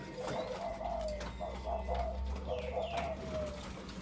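A dove coos in a soft, repeated phrase, close by and fairly quiet, with a low hum in the background.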